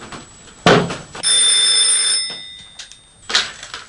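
An old landline telephone bell rings in short bursts with pauses between, fairly close and clear, with no one talking over it.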